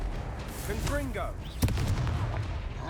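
A Confringo fire spell blasts in Hogwarts Legacy, one sharp impact midway through amid game ambience, with speech-like chatter around it.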